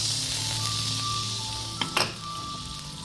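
Jaggery water poured into a hot pan that has just roasted cashews and coconut gives a steady sizzle, with a couple of sharp clinks of a utensil against the pan partway through.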